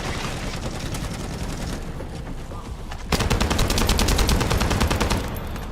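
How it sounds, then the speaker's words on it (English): Rapid gunfire from a video game rattles continuously throughout, growing louder and denser halfway through as automatic weapons keep firing without pause. "I like how the guns look when they go off."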